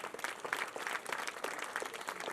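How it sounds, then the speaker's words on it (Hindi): An audience claps at an annual school function, a dense, continuous patter of many hands at moderate distance, fairly faint, with no voices over it. "जोरदार तालियां बजाएं"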